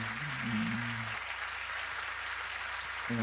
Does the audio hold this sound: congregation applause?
yes